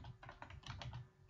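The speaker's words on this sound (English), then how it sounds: "I'm going to type in the title of my topic." Rapid keystrokes on a computer keyboard while a forum topic title is entered, an uneven run of close, crisp clicks with no talking.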